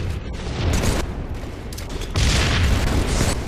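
Gunfire in a shooter video game as a teammate fires, heavy booming reports blending into a continuous loud rumble of shots, swelling again near the end, with no talking.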